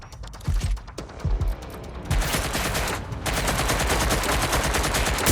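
Rapid gunfire from a Watch Dogs: Legion firefight, starting as scattered loud shots and building into a dense, sustained barrage of automatic fire.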